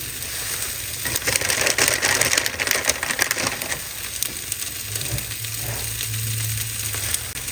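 A cheese egg omelette sizzles steadily in a hot pan, a continuous crackling fry with occasional scraping and clinking from a utensil, close and fairly loud, with no talking.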